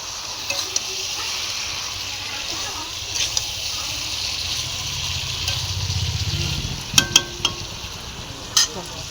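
Chicken pieces sautéing in oil for a chicken kosha, a close steady sizzle with stirring scrapes that swell midway, then sharp clanks of a spatula against the pan.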